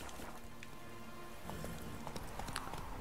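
A horse trots in The Witcher 3: Wild Hunt while riding into Novigrad. A steady, fairly faint clip-clop of hooves sits under soft ambient game sound throughout.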